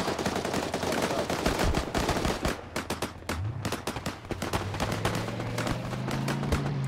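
Rapid gunfire from an ARMA battle, with dense bursts of automatic weapons and scattered single shots crackling continuously, loud and close, alongside a low mechanical drone that builds toward the end.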